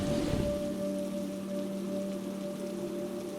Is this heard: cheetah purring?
no